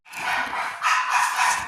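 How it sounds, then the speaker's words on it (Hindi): A neighbouring house's dog barks in two bursts, a continuous, fairly loud yapping that carries into the room from nearby, with no talk over it. "यहाँ पे थोड़ा सा डॉगी जो है भौंक रहा है बगल वाले घर का गाइस"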